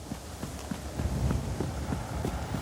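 A horse in a fast canter: rhythmic, repeated hoofbeats landing in quick groups over a steady low background rumble, moderately faint.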